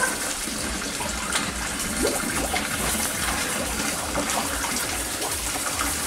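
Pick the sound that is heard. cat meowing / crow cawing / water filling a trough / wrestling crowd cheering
water filling a trough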